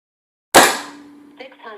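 A single loud, sharp shot from a Crosman Trail Hawk .177 Nitro Piston budget gas-ram air rifle cracks after silence, then decays quickly into a brief ringing tail with faint clatter.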